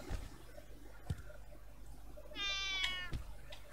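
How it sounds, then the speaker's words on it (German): A single short cat meow from the video game Green Project rises and falls over a quiet background hum, with a few soft clicks around it. "Katze, wo bist du?"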